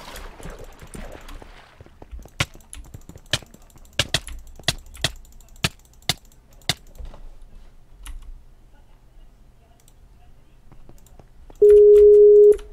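A telephone busy signal from a call that will not connect, a single steady tone near the end following a run of sharp, separate keyboard-like clicks in a quiet room.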